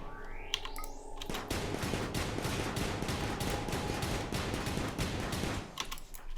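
Rapid, dense gunfire in the colony-management video game RimWorld crackles for several seconds in continuous overlapping bursts, loud and close, then cuts off abruptly.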